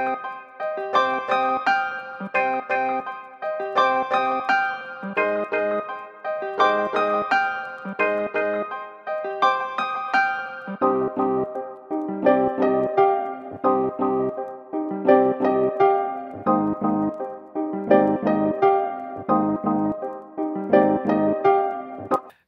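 A flipped piano loop beat built in Pro Tools, with repeating chopped piano chords over steady drums, loud and continuous with no talking.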